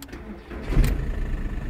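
A car engine cranks and catches on the first try, started with a CATUO portable jump starter battery booster; a short crank burst gives way to a steady running engine, close and fairly loud.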